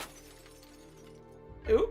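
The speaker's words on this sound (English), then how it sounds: "That was the sound of glass crashing." Glass crashes and shatters in a video game scene, a single brief break near the end after a quiet stretch, followed by a short exclamation from a voice.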